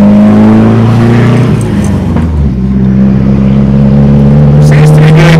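A Nissan S14 with a welded differential, its engine droning loudly and shifting pitch as it drives and turns, with tire and road noise close by.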